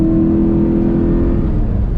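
A 1983 Porsche 928S with a five-speed manual drones loud and close from inside the cabin while downshifting into second gear, holding a steady, unbroken engine note.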